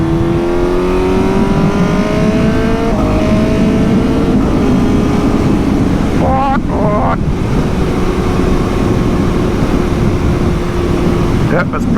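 Suzuki GSX-S 750 motorcycle with a Translogic quickshifter accelerating hard through the gears on the road, the engine note climbing loudly in repeated rising sweeps broken by quick clean upshifts, with wind rush throughout.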